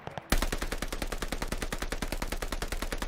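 An automatic weapon fires in Call of Duty: Vanguard multiplayer, with a quick beat of sustained rapid shots, loud and close, steady for about three seconds after a brief quiet start.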